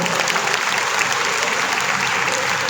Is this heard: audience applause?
yes